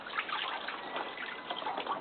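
A dahlia tuber is plunged and swished in a container of water, giving a steady close sloshing and trickling that runs on without a break.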